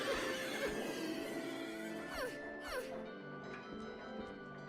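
Horses neighing in a Five Nights at Silent Hill style horror video game, with a few descending whinnies around the middle over a steady bed of game music and ambience.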